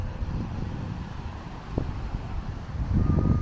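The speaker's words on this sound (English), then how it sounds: "it's just too windy down here" Strong wind on a beach rumbles against the microphone in a continuous low roar, gusting louder toward the end.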